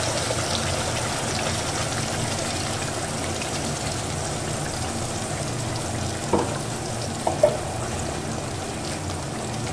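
Onion paste frying in hot white oil in a kadai for chicken malai makhani, a steady broad sizzle throughout with a couple of brief clatters near the end, no talking.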